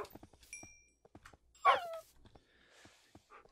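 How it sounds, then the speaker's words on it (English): A dog pup whimpering in a Minecraft-style game, a brief high yelping whine mid-clip among scattered soft game clicks and small blips. "One more pup."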